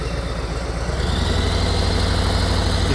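A motorcycle engine runs steadily with the throttle held open during a riding lesson, a loud continuous low drone that builds slightly after the first second and holds at a constant level.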